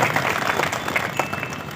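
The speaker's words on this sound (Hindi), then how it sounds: "तो ऐसे इनके लिए भी जोरदार ताली बजा करके मुझे लगता है स्वागत करना चाहिए।" A crowd at a commemorative public gathering claps loudly to welcome a guest, a dense and sustained burst of applause with a few sharper individual claps standing out.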